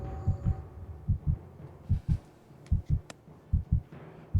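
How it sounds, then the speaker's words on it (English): Heartbeat sound effect triggered by a D&D Beyond dice roll during a tabletop game session: steady paired low thumps, lub-dub, repeating about six times, close and clear with no talk over it. "if those of you are wondering why you're hearing a heartbeat, that's because D&D Beyond allows me to roll the attacks right in D&D Beyond"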